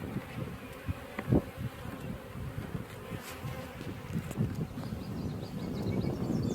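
Honeybees buzzing around a hive with many drones, a dense close hum of wings with individual bees flitting past the microphone, steady throughout.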